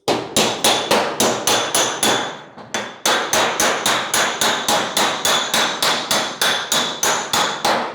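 Steady, rapid hammer blows on sheet metal around a gas filler opening flange on a 1940 Ford-inspired hardtop coupe, loud and close, a regular pounding rhythm of roughly three strikes per second with one brief pause.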